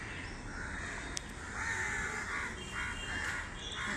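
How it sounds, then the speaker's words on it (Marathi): Several crows caw repeatedly in a green garden, loud, close, rasping calls in quick bursts over a steady outdoor hum. "कावळे पण येऊन बसले."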